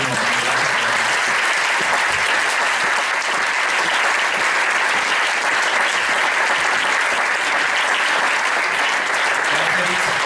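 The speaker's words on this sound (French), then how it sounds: "On va applaudir pour remercier" Loud, sustained applause from a large audience at a conference talk, dense and steady throughout without pause.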